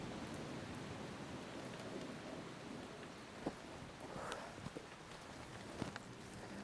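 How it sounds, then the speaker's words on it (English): Rain beginning to fall on an exposed mountain ascent, a steady soft patter of light drops with scattered closer taps and a brief rustle, no one speaking. "it's just starting to rain"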